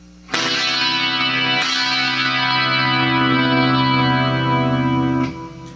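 Rickenbacker electric guitar, a 1993 model, rings out a sustained chord through chorus and distortion effects, struck once near the start with a quick restrum, then held loud and shimmering before cutting off.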